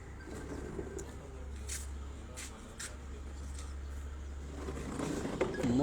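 Pigeons cooing on a rooftop in Kathala, Gujrat, soft repeated coos under a steady low outdoor hum, with a few faint bird calls nearby.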